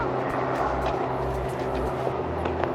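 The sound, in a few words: airplane at Billy Bishop Airport, Toronto Island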